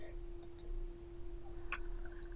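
Computer mouse clicks while opening a course customization menu: two quick close clicks, then a single click and a fainter one, over a steady electrical hum and low room noise.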